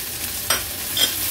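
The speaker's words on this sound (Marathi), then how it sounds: "कांदा तेलावर थोडासा परतून घ्यायचे।" Chopped onion frying in hot oil with curry leaves, mustard seeds and cumin, a steady close sizzle with two brief stirring scrapes.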